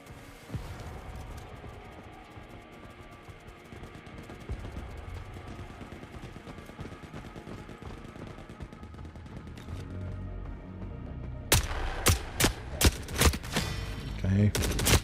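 Gunfire from an armor-piercing gun with specialized bullets in The Forever Winter, loud and dense, with steady shooting underneath for most of the stretch and then a run of sharp separate shots near the end.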